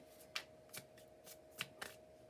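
Tarot cards are shuffled by hand in a quiet room, giving soft papery riffles in a few separate short bursts over a faint steady hum.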